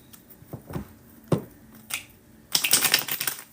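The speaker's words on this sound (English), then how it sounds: "Shuffle these 2 decks." A few scattered taps and flicks of tarot and oracle cards, then a quick burst of rapid riffling as decks are shuffled, close and fairly quiet.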